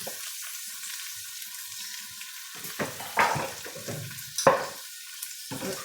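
Pork belly sautéing in a pan, a soft steady sizzle broken by a few louder bursts of stirring and spattering near the end.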